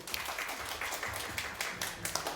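A church congregation at a Wednesday service gives a short burst of steady, moderately loud clapping that fills the room and fades out after a couple of seconds.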